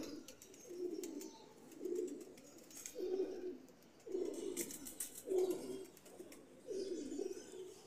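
Golden pigeons coo nearby in a steady series of soft, low throaty phrases, about six evenly spaced bursts, with faint clicks and rustles between.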